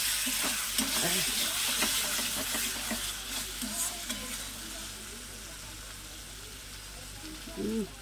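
Spice masala and potatoes are stir-fried for a tengra fish and potato kasha, a dense sizzle with rhythmic stirring scrapes early on that eases later, while a voice murmurs faintly underneath.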